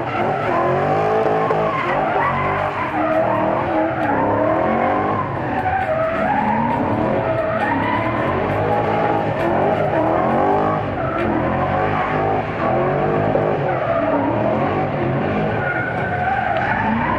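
A car drifts at night at Fritidsparken race park in Skien, its engine revving hard and tires squealing steadily throughout, loud and close with no talk.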